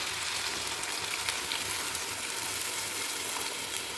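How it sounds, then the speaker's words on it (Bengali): Water poured into a hot pan of cauliflower sets off a loud, steady hiss of sizzling that holds without a break. "এবার দিয়ে দিচ্ছি জল"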